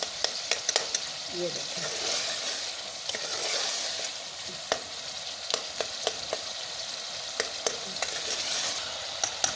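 Tomato masala for aloo baingan frying and being stirred in a pan: continuous sizzle with repeated sharp scraping taps of the spoon against the pan, close by, with a brief spoken phrase.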